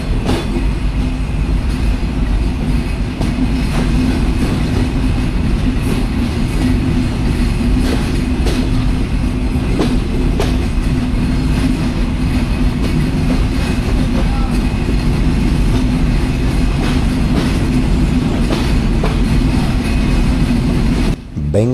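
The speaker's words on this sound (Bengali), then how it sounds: "চুয়াডাঙ্গা থেকে আমাদের ট্রেন ছেড়ে দিল" Steady, loud rumble and rattle inside the Shimanto Express, heard from on board as it runs from Chuadanga toward Darshana on the line to Khulna, a continuous roar with faint clicks of the wheels throughout.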